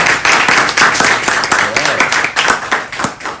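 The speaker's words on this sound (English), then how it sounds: "So give your round of applause." Close, loud clapping from a small Toastmasters club meeting celebrating distinguished club status, irregular bursts of hands with a few murmuring voices mixed underneath.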